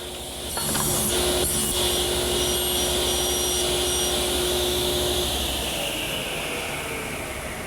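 A table saw runs steadily for several seconds as wooden rails are pushed through on a miter gauge to cut tenon shoulders, a continuous loud mechanical whir with a faint whine that spins up and holds.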